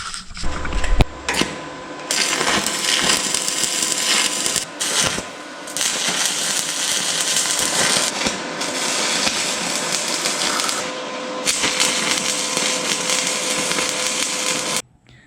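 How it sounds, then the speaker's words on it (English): Welding a mid plate into a metric car chassis: a harsh, broadband crackling hiss in long sustained runs of a few seconds each, broken by short pauses, close and loud. "Now I just gotta weld it in."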